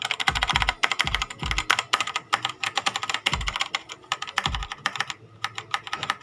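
Quick, steady typing on an HP GK100 mechanical keyboard with linear, non-clicky switches that bottom out, a dense patter of close, moderately loud keystrokes with short pauses and no talking.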